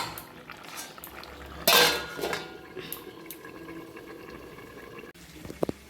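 A lid set onto a pot of eggplant and potato curry in a home kitchen gives one loud metallic clatter, followed by quieter pot clinks and a faint bubbling simmer, with no talking.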